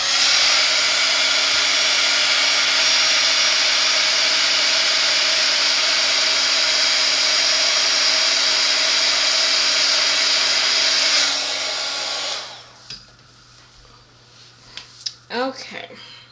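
Heat tool blowing hot air to melt embossing powder on a Christmas card, a loud, steady whirring roar that runs unbroken for about twelve seconds and then cuts off, followed by quiet with a few soft handling sounds.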